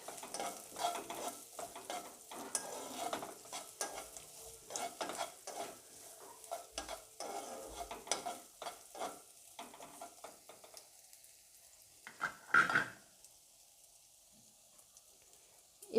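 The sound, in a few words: carrots, cashews and raisins frying and being stirred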